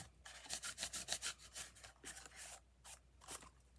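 Soft, rhythmic rubbing of finish onto a tin can, a series of faint, close scratchy strokes with a brief pause midway.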